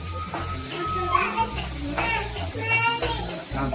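Green chillies cut medium-size sauté in a hot pan for paneer chilli, a steady close sizzle with a few stirring scrapes, while background music or voices run underneath throughout.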